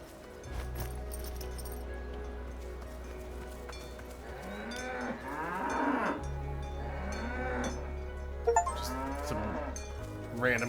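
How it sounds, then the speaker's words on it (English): Cows lowing repeatedly in the Dungeons of Hinterberg video game, several drawn-out moos rising over a steady low hum and soft ambient background, with no speech. "Random cows here."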